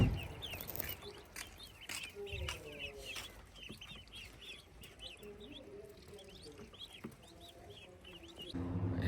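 Indian Runner ducklings, 8 to 10 days old, peep in a busy overlapping chorus of rapid high chirps, fairly faint and close, with a few soft knocks.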